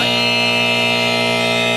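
A sustained electronic buzzer tone holds steady and loud for nearly two seconds on a sports talk radio show, with no voices over it.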